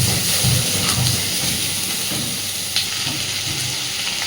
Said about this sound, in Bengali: আলুটাকে দিয়ে পেঁয়াজের সাথে একসাথেই ভাজতে থাকবো, তাতে আলুটাও বেশ সুন্দর ভাজা হয়ে যাবে।